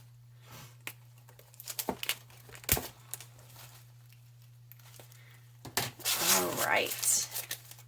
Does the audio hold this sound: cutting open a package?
yes